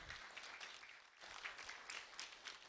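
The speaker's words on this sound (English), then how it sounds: "So Erica, a round of applause for you." Applause at a school Do the Right Thing celebration, a small group clapping steadily and faintly, sounding somewhat distant, with a brief dip in the middle.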